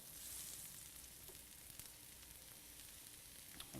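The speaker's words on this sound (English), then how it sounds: "We're going to begin sauteing our" Mushrooms sauté in a skillet over medium heat, giving a steady, fairly quiet broadband sizzle that holds evenly throughout with no talking.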